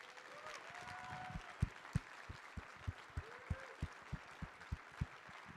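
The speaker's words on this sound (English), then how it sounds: "So right now is a great time to applaud our volunteers and staff members" Audience at a security conference clapping for volunteers and staff, sparse, quiet, evenly spaced claps that build slightly then continue at a steady rhythm, sounding distant in a large hall.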